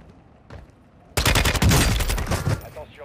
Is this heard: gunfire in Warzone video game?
yes